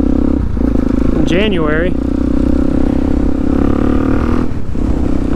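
A motorcycle engine warms up at a steady idle on a mild winter day in Iowa, a constant close rumble running throughout while someone talks over it.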